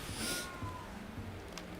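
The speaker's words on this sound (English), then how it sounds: "That cat is unhappy." A cat in the Hogwarts Legacy video game lets out an unhappy, drawn-out meow, a single wavering cry over a faint game ambience.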